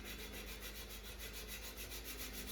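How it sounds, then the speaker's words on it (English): Sandpaper lightly rubbing over Bondo filler on a Wizard of Wor arcade cabinet during a restoration, a steady, even scratching rasp that repeats in short strokes with no talking. "I'm just gonna take a little bit of sandpaper and see about just sanding it down lightly"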